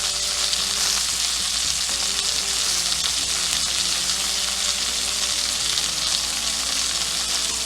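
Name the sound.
butter and rosemary sizzling with steak in a pan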